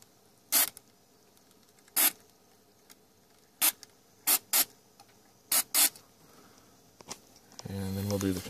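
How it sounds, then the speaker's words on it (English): Short bursts of contact cleaner spray hiss from an aerosol can onto the controls of a Teac A-2340 reel-to-reel tape deck, some in quick pairs, with quiet handling noise between and a low hum at the end. "I'm just going to get in here and spray these things."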